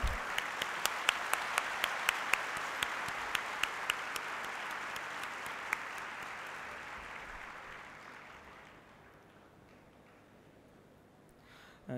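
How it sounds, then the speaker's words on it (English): Audience applause in a hall following a discourse by Pujya Gyanvatsal Swami, steady dense clapping with some distinct sharp claps early on, gradually fading away to near silence before a brief sound at the very end. "Once again, give them a big round of applause."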